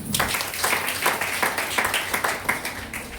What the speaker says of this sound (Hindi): सब ये ताली होनी चाहिए।